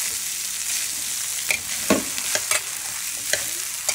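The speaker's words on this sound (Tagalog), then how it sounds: "halu-haluin po natin. Ayan, para mahalo yung butter at saka yung bawang" Butter and garlic sizzle steadily in a hot pan, broken by several sharp scraping stirs of a utensil against the pan, close up with no voices.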